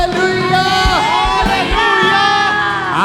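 A church congregation at a Sunday testimony and holy communion meeting shouts together, loud and close, with sustained rising and falling voices; no distinct clapping stands out.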